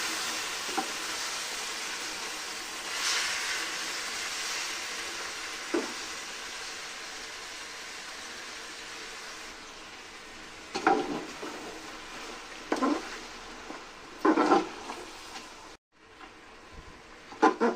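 Marinated chicken for a gongura chicken curry is stirred in a hot pan. A steady sizzle of frying runs throughout, broken by a few scraping strokes of the spoon and clanks against the pan toward the end.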